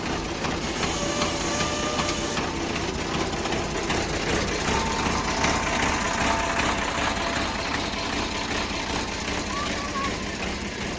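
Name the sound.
Sonalika DI 42 RX tractor engine idling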